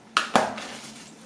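Two crisp knife chops in quick succession slice through young cabbage being cut fairly thick, each followed by a short fading rustle, with no talking.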